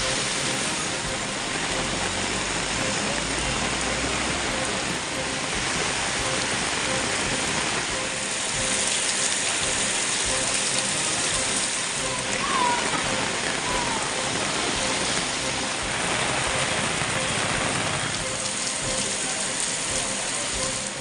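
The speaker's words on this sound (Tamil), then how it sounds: "சேலம் மாவட்டம் ஆத்தூர் சுற்றுவட்டார பகுதிகளில் கனமழை பெய்தது." Heavy rain pours steadily over the Attur area of Salem district, a dense, unbroken hiss that stays loud and even throughout with no pauses.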